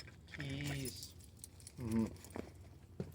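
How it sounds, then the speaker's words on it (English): Keys jangle softly in a short, clinking rattle near a bike being locked up, heard under a child's and adult's voices talking. "There's the noise of keys."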